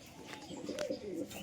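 A pair of pigeons, a red cock and a golden hen, give soft low cooing in one short rising-and-falling phrase, close and fairly quiet against faint room noise.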